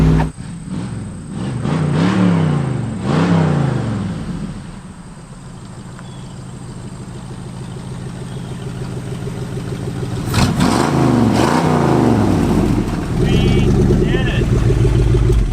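A rusty barn-find Ford Mustang, left sitting for 25 years, drives along with its engine rising and falling in pitch and loud wind and road rumble, and a clattering undertone through the whole stretch.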